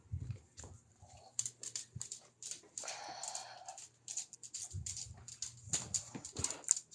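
A dog whimpering and whining to be let outside, a series of short high whines and soft snuffles close by in a quiet room, with occasional footsteps and movement.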